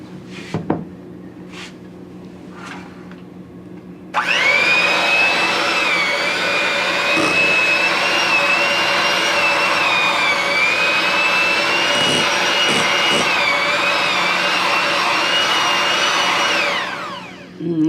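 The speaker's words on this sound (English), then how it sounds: "you're gonna take your mixer and you're gonna mix this just until it's all like one nice and consistent" Electric hand mixer beating low-fat cheesecake batter, switching on after a few faint knocks and running loud and steady with a high whine for about twelve seconds before winding down.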